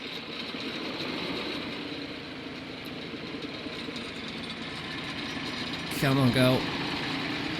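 An old vehicle engine in Farming Simulator 22 runs at a steady low idle throughout, with a brief louder rev or surge near the end while a person speaks quietly over it.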